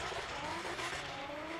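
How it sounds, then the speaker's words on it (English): Pro-Am drift car at British Drift Championship qualifying, engine screaming hard against the rev limiter with tyre noise, a dense continuous roar heard from trackside. "You can hear him absolutely smashing the rev limiter as Daryl Jones gets that car into the line."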